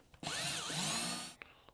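A power drill drives a screw to anchor down a sculpture, one close, loud whirring burst of about a second that rises and dips in pitch, then stops with a faint click afterward.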